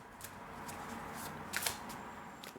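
Tarot cards being shuffled in quiet surroundings, giving soft papery riffles and flutters with a few brighter snaps partway through, alone without talk.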